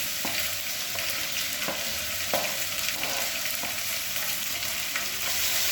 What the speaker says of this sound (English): at this point is when we're going to add in our tomatoes. And our capsicum at the same time.